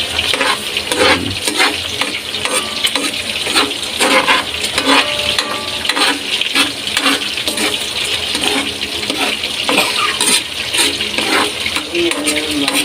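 Vegetables sautéing in a pan for ginisang gulay, a steady close sizzle and crackle with stirring scrapes and clinks of a utensil against the pan, running continuously without talk.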